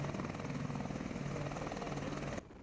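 Military helicopter flying overhead, a steady, fairly loud rotor chop and engine drone that drops off abruptly near the end.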